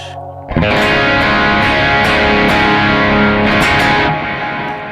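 One loud, heavily distorted electric guitar chord played through a Kemper amp, struck and left ringing, sustained for several seconds before starting to fade.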